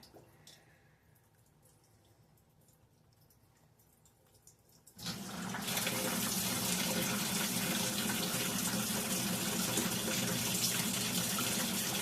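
A Whirlpool top-load washing machine starts filling: after a few quiet seconds, water suddenly gushes in with a loud, steady rushing hiss that continues to the end.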